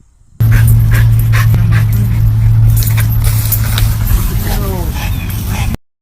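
A dog whimpers and yips in short bursts through a steady low hum with background noise, fairly loud and close, with speech-like sounds mixed in.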